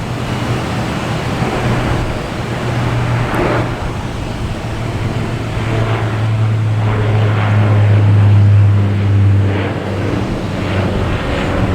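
A Porter airliner heading to Toronto at Boston Logan Airport, a steady propeller drone with a low hum that builds louder toward the middle and then eases, with a wash of wind underneath.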